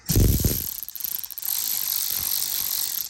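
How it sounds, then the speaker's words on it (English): A ratchet removes 12-point drive shaft bolts on a 1999–2004 New Edge Mustang: a loud close crack, then a fast continuous run of ratcheting clicks to the end. "4 bolts, 12 point. Takes a decent amount of effort to crack them off"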